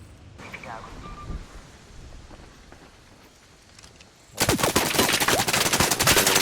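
In Arc Raiders, a gun fires a rapid sustained burst of loud, close automatic gunfire in the last couple of seconds, after a quieter stretch of game ambience.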